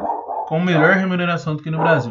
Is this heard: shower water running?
no